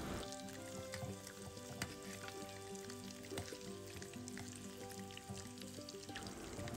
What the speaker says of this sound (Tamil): இப்போ எல்லாத்தையும் வந்து ஃப்ரை பண்ண போட்டுட்டேன்.